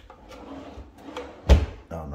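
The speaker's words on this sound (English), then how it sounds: "Oh no, they not soft closing at all." A bathroom vanity's cabinet drawers are pushed shut and land with one loud, abrupt bang instead of gliding closed, after some quieter handling, with a voice talking around it.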